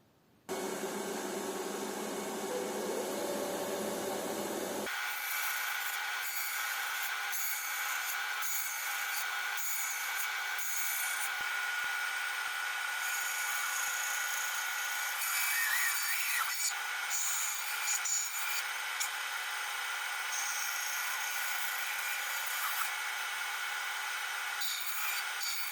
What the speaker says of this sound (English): Now we are going to the bandsaw.